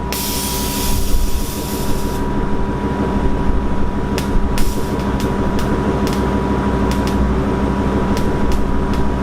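Airlift air suspension on a Mustang dumping air as the car drops to the ground, a loud continuous rushing hiss with several short sharp bursts of venting, close by.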